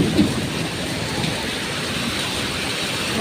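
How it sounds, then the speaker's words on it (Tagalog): Heavy rain pouring steadily outdoors by a road where cars crawl past in the dark, a dense, even hiss with a faint low rumble early on and no talking. "Nakakatakot magbiyahe ng ganito kasi sobrang malakas yung ulan"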